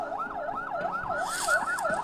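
Ambulance siren wailing in a steady rising-and-falling cycle on a road in Malaysia, loud and close, with traffic noise beneath it.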